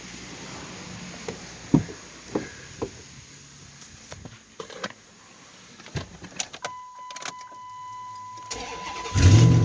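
A car engine cranked over using a Lokithor jump starter: a series of clicks and short cranking bursts, a quiet pause with a steady electronic tone, then the engine catching loudly at the end.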